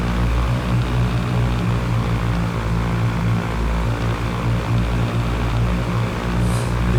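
A Carenado Cessna 152 with its propeller engine running as it taxis in the X-Plane 11 flight simulator: a loud, close, steady droning hum with a throbbing low rumble, continuous throughout with no voices.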